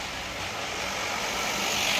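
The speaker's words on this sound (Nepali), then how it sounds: "अघि जुन चाहिँ जाँदै गरेको छ स्टिम, यो चाहिँ डिजलमा कुद्दैछ।" A Darjeeling diesel train engine rumbles at a steady, moderately loud drone, a brief continuous engine hum with no talking.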